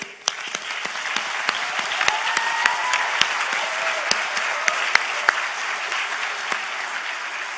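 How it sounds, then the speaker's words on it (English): A convocation audience applauds medical and dental graduates, a steady, even wash of clapping from a large crowd sustained throughout without pause. "we applaud and salute all medical and dental graduates"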